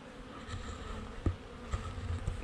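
Bees buzz around a swarm's hive, a dense steady drone with individual insects passing close by in brief louder sweeps, no voices.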